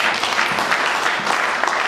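Congregation at a French-speaking church service applauding in praise of the Lord, a dense, steady wash of many hands clapping close by that fills the whole moment without a break.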